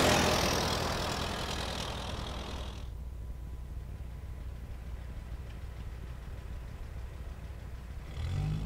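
Car engine idling in the horror game White Night, a steady low mechanical drone that holds evenly throughout, with a brighter whooshing swell at the start and a slight rise near the end.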